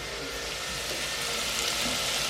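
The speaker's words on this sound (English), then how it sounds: "My onions and garlic are just nice and soft now, just starting to brown." Onions and garlic frying in a pan until soft and starting to brown make a faint, steady sizzle that is close and continuous and heard alone, with no voices.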